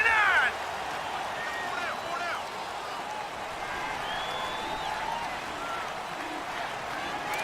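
A stadium crowd roars in a Madden NFL 19 football video game, a steady wash of cheering and noise, with a brief louder burst at the start.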